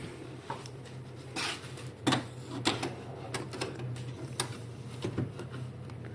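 Light clicks, taps and paper rustling as paper is loaded into the tray of an Epson L3256 printer, faint and irregular over a low steady hum.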